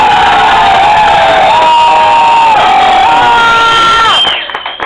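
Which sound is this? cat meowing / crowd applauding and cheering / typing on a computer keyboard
crowd applauding and cheering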